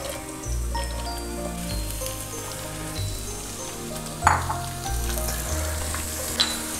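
Sliced onions go into a hot pan and fry for chicken curry, a loud continuous sizzle close by with occasional scrapes and clinks of a stirring spoon.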